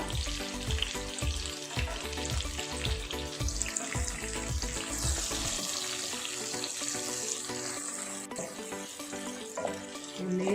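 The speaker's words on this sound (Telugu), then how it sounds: "వేడెక్కిన నూనెలోన ఉల్లిపాయలు, 3 ఉల్లిపాయలు కోసుకొని వేసుకున్నానండి. 4 పచ్చిమిరపకాయలు, 2 బిర్యానీ ఆకులు" Three chopped onions, four green chilies and two bay leaves frying in hot oil for a goat head curry, making a dense, crackling sizzle with rhythmic stirring knocks in the first half.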